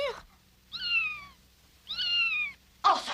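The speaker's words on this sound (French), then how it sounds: "C'est le chat qui miaule." A cat meows twice in a quiet room, two clear, drawn-out cries with a short pause between them.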